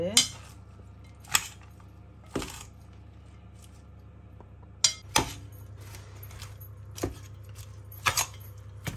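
Utensils toss and mix a simple homemade salad in a bowl, producing sharp metallic clinks and taps at irregular intervals over a quiet steady background hum.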